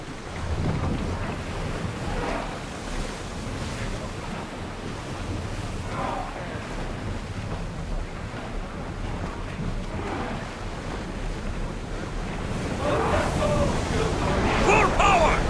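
A ship sailing through ocean waves in Assassin's Creed Odyssey, with surging surf and a steady rush of wind, growing louder near the end.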